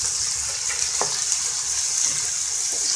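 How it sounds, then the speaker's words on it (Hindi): Okra, potato and green chilies frying in oil, a steady close sizzle with faint scraping as the pan is stirred, continuous throughout with no voices. "तो फ्राई कर लेंगे तेल में।"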